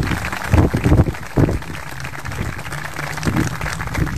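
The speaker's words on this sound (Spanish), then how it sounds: "pido un fuerte aplauso para la compañera." Applause at a political rally launching an electoral list, a loose scatter of clapping hands that swells in bursts and thins between them, fairly close, with some crowd murmur underneath.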